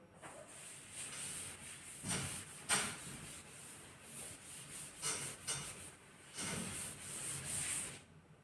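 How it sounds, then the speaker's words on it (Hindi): Writing is rubbed off a board during a maths lesson: repeated scratchy, hissing eraser strokes in uneven bursts, fairly close and steady for several seconds, with no talking over them. "मैं इसको रब कर देता हूं।"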